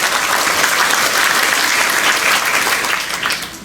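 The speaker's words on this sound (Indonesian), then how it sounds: "tepuk tangan buat semua wisudawan-wisudawati" Dense, steady applause from a graduation ceremony audience at a health sciences college in Kupang fills the whole stretch, loud and continuous with no break.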